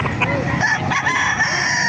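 A rooster crows loudly and close by at a chicken market in Calumpit, Bulacan, a single drawn-out call with no talk over it.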